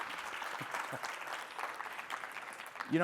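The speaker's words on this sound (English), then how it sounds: "Round of applause for Robin." Faint applause from a conference audience at a business summit, a soft continuous patter of many hands clapping heard at a distance.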